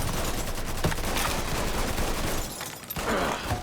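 Rapid automatic gunfire from the Mafia III Definitive Edition video game, a loud sustained burst of shots running continuously with no talk over it.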